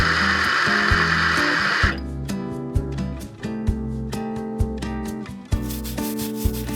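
A coffee grinder grinds espresso beans: a rough, hissing burst of grinding gives way to a steady whining motor hum punctuated by occasional sharp clicks, loud and close.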